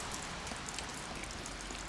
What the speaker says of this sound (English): It's just sprinkling now.